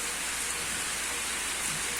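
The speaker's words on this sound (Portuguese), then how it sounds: "Tá caindo água aí, ó. Muita chuva. É chuva." Heavy rain pours steadily, a dense, loud, unbroken hiss of water striking surfaces with no gaps and no voices.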